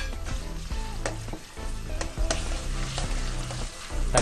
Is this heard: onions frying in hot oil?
yes